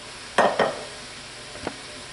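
Wilted cabbage and onions tipped into a pan of frying meat for a runza filling: two close scraping clatters, then a quiet gap and a faint scrape, over a low steady background.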